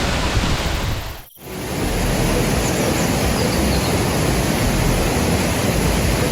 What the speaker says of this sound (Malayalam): അടി താഴ്ചയിലേക്കാണ് ഇവിടെ വെള്ളം പതിക്കുന്നത്.